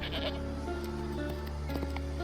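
Goat bleats from the video game New World, several short wavering calls close by over a steady low ambient drone, with no talking.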